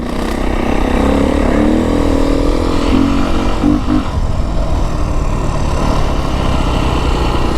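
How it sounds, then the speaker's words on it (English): A Beta 350rr dirt bike lugging in 4th gear, a loud, continuous, low engine chug with a steady throb and slight pitch wavering, close to the rider. "I think I'm in 4th gear right now, and you see how good the bike just lugs."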